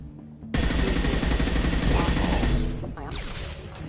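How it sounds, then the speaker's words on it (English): Heavy gunfire from Mass Effect 2: a loud, sustained barrage of rapid automatic shots bursts in suddenly and runs for about two seconds, then eases off into scattered bangs. "Taking heavy fire!"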